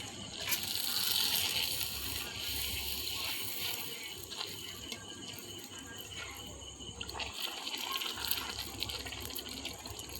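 Fuchka puris deep-frying in medium-hot oil, giving a steady dense bubbling sizzle that continues throughout, close and even in loudness.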